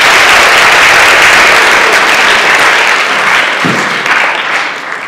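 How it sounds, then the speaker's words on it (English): Audience applause for student co-president candidates, loud sustained clapping from a large crowd filling the room, gradually thinning toward the end. "So I want to give them all a great round of applause."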